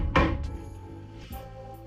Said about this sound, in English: gently tap that out with a hammer